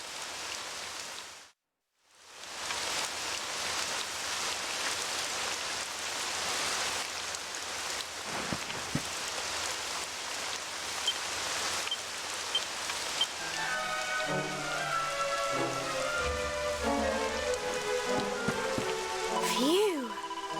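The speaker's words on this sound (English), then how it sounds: "It would have to go and start raining, wouldn't it?" Steady rain falls throughout a scene in Dragon Quest XI S, a dense hiss after a brief silent break near the start, with game music rising in the second half and no one speaking.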